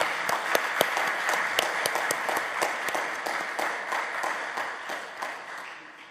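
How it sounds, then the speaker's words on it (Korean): Lecture audience at a church theology seminar claps after the talk, individual hand claps standing out in a moderately loud round that gradually thins and fades toward the end. "다시 한번 박수해 주시기 바랍니다."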